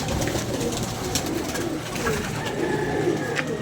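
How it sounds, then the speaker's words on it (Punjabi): Pigeons coo and call at close range, the soft repeated calls sitting over a steady, busy background hum with no talking. "ਬਾਬਾ ਜੀ ਕਬੂਤਰ ਵਾਕਈ ਬੜਾ ਚੰਗਾ ਹੈ"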